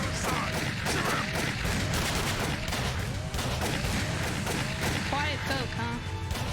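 Gunfire in the horror video game Call of Cthulhu: Dark Corners of the Earth, sharp shots and crashes running dense and loud throughout over a busy game soundscape, mixed with voices.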